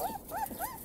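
Eighteen-day-old German shepherd puppies whimper close by, three thin, rising-and-falling whines in quick succession, fairly loud and alone.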